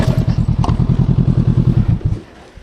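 A motorcycle engine idles nearby with a rapid, even, thumping pulse while the bike is turned around on a wild camping trip in England, then the engine sound drops away and goes quiet at the end.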